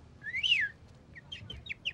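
Bird calling: a single clear rising-and-falling whistled note, followed by a few fainter, short chirps, heard alone over a quiet background.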